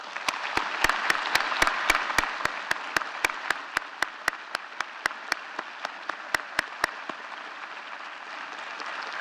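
Applause from a large audience at a university State of the University address, honoring the research staff standing in the hall. Steady, dense clapping that swells early, then tapers slightly, with sharp regular clicks ticking through it.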